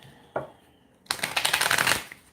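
Moonology oracle cards are shuffled and pulled from the deck: a short soft tap, then a second of near quiet, then a dense, riffling burst of card shuffling that lasts about a second, close and fairly loud with no talking.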